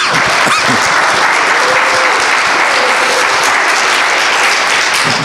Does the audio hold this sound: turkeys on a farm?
no